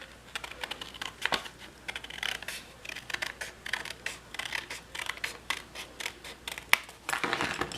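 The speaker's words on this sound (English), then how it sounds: "Now I'm going to go ahead and cut this outside edge off." Scissors snipping along the outside edge of a paper pillow gift box, a close, steady run of crisp cuts and rustling paper strokes with no talking.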